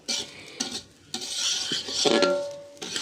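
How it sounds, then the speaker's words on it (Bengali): Rice being stir-fried in a pan, with a spatula scraping and stirring in repeated rough strokes and soft sizzling beneath, close and moderately loud, without any talking. "আস্তে আস্তে চাউল কষানো"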